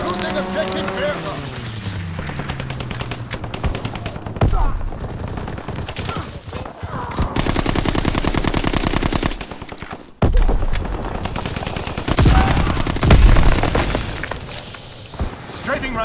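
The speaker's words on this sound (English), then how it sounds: "Fighter pilot inbound, strafing the target." Rapid machine-gun bursts and explosive thuds from a fighter plane's strafing run in Call of Duty: WWII multiplayer, loud and repeated, mixed with game chatter and other battle noise.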